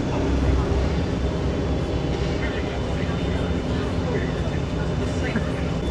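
A modern passenger hovercraft travels on its cushion of air, heard from inside the cabin as a steady, unbroken engine and fan roar with a broad rushing tone that stays level throughout.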